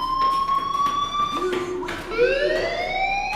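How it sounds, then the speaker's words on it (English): A loud electronic fire alarm wails in the video game Life Is Strange, a steady tone that bends and rises as a second tone layers in, sounding close and continuous throughout. "do you hear that fire alarm?"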